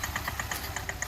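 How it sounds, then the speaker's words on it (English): A car engine idles with a rhythmic knocking, sharp regular ticks repeating several times a second over a low, steady running drone. "Engine knocking can destroy your engine fast"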